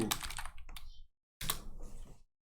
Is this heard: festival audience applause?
no